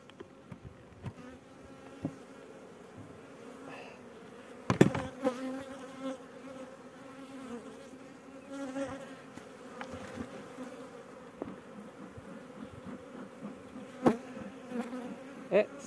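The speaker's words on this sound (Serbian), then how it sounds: "jer ima ovdje baš dosta pčela" A dense swarm of honeybees hums steadily around open beehive frames during a hive inspection, with sharp close bumps and handling knocks of the frames breaking through the constant buzz.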